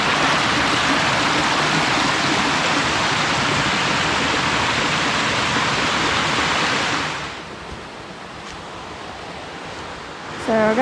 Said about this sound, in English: I wonder if we can go down this way to see the waterfall.